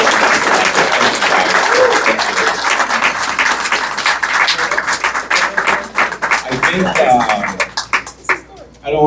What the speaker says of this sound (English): let's have a big round of applause for our candidates and for our moderators